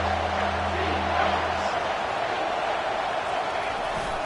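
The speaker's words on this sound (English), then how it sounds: "This crowd knows when to bring it." Football stadium crowd roaring steadily as a broad, continuous wash of cheering, loud and sustained throughout, with a low hum underneath during the first part.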